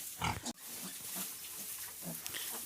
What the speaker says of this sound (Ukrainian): Свинка їсть